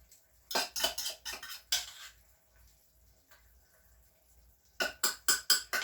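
Metal spoon clinks and scrapes against a dish while ricotta is layered into a vegetable lasagna, sharp taps in two bursts separated by a quiet gap, close and alone.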